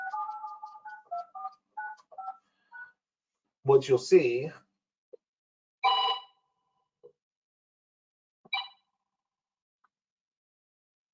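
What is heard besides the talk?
telephone dialing and cell phone ringing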